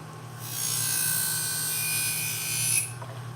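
Scissor blade being honed on a sharpening machine, a steady whirring grind with a high ringing edge that starts after a short pause, holds for over two seconds, then stops, leaving a low hum.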